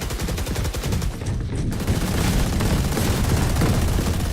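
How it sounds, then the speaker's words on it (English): Rapid sustained automatic fire from an Odin machine gun in the shooter game Valorant, a loud, close stream of densely packed shots with a brief gap before the burst resumes and carries on steadily. "You can't hear it when the Odin is spraying 10 feet in front of you."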